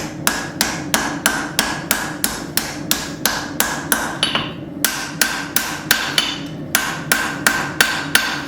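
Hammer forging a steel knife blade: about sixteen loud, ringing metallic blows land in a steady, even rhythm close by, with a short pause midway and no talking.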